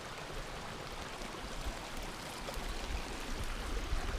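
A creek and waterfall rush in a steady, broadband wash of flowing water, faint and continuous with slight swells in volume, no voices present.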